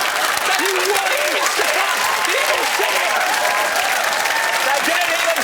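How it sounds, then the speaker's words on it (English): Loud, sustained applause from a studio audience at a comedy panel show, dense and continuous throughout, with voices faintly audible underneath. "why are they applauding?"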